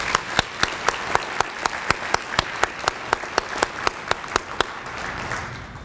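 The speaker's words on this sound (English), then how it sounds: "Let's give them a round of applause." A banquet audience at an athletic hall of fame awards dinner applauds continuously, with one loud nearby clapper striking a steady, evenly spaced rhythm above the general clapping.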